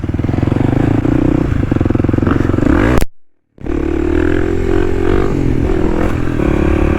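A Kawasaki KLX300 dual sport dirt bike rides a wet, muddy trail on a rainy day, its engine droning steadily and loud up close, cut by a brief dropout before resuming.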